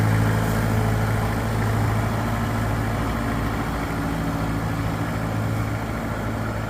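A plot combine's engine rumbles steadily as the machine is driven, a loud, even low drone with a faint tonal hum and no pauses.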